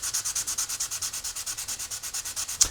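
Steady back-and-forth sanding on a carved wooden salad server shaped with an Arbortech mini carver: about two dozen even rhythmic rasping strokes, close and moderately loud, ending with a small bump.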